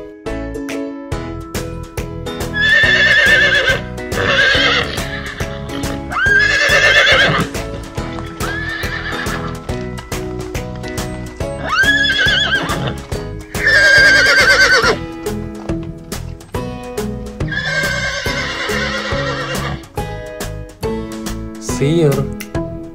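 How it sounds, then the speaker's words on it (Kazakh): A horse neighs loudly several times in repeated whinnying bursts over a steady rhythmic clip-clop of hooves, with background music running throughout. "Жылқы. Жылқының төлі құлын."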